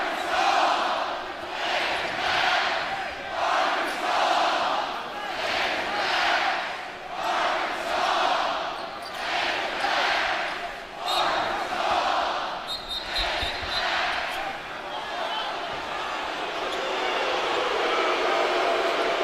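A packed arena crowd at a college match between Purdue and Arkansas chants and claps in a steady rhythmic pulse, with loud repeated surges that fade into looser crowd noise near the end.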